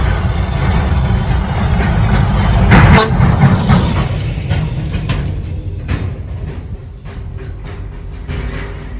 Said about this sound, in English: A big truck.